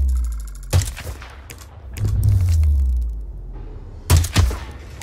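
Sniper rifle shots in Hitman 2 ring out as sharp, loud cracks, one early and a pair near the end, with a low rumbling swell of ambient noise between them.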